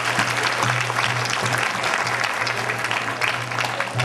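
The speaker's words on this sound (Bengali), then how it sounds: "সবাই হাততালি দিয়ে জোরে।" A congregation at a church ordination ceremony for newly ordained priests bursts into loud, sustained applause, dense clapping filling the hall without a break.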